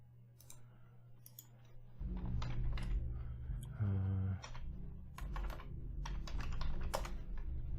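Rapid clicking of computer keys while a user types a short material-function name in a 3D game-engine editor, close and fairly quiet, with a steady low hum and some background rumble underneath.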